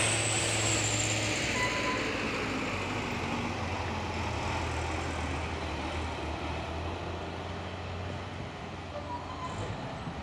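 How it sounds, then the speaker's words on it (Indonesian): A Fuso 190 PS truck crawls slowly up the Bukit Kodok hill, its engine a steady, moderately distant drone with a low hum that gradually fades. "Ini ada juga satu unit truk Fuso 190 PS melewati tanjakan Bukit Kodok dengan pelan-pelan ya"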